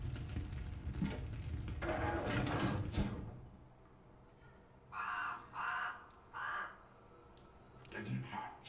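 Crows caw in The Lord of the Rings: Gollum, three loud separate calls sounding close after a dense stretch of noisy game audio, with a few quieter sounds near the end.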